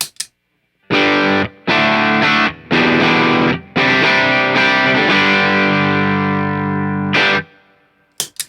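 A Telecaster through a Blackface Bassman with a Nobels ODR-1 overdrive pedal gives a loud, crunchy run of strummed chords and riffs in short bursts with brief gaps, ending on a long ringing chord, with no voice.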